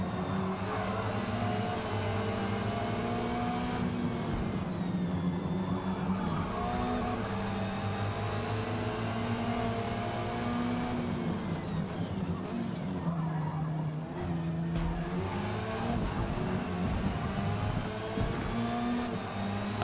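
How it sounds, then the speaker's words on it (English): Touring cars racing close together in a video game, with a steady roar of engines and repeated tire squeal and skidding through corners, loud and continuous throughout. "Definitely some close racing in the touring cars here"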